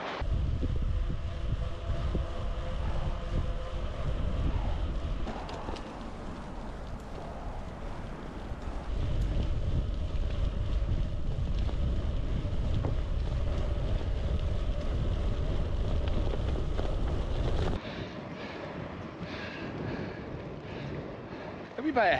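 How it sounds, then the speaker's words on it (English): Steady roar of headwind buffeting the microphone while cycling on a cycle track, continuous and fairly loud, with wind noise dropping briefly near the end. "Bit of headwind now"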